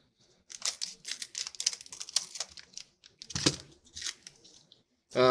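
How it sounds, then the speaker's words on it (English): Old 1972 Fiskars sewing scissors make a run of crisp snipping and cutting sounds, close up and fairly quiet, in quick irregular bursts with a louder rustle near the end. "So got our old trusty 1972 Fiskars sewing scissors."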